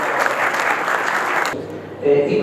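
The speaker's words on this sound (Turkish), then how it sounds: "Onları alkışlamak istiyorum." An audience at a university medical faculty project meeting claps together for about a second and a half, then the applause cuts off abruptly, leaving quieter room sound with a faint tone.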